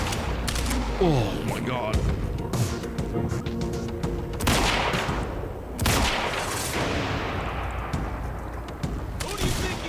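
Heavy gunfire rattling in the shooter game Quantum Break, with repeated loud cracks and booms from a sniper among rapid shots, while a voice briefly exclaims over the barrage.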